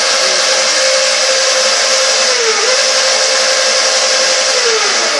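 The electric motor of a Razor E175 scooter spins with the throttle held forward, giving a loud, steady, close-up whine with hiss that holds even and continuous for several seconds, alone and without talk.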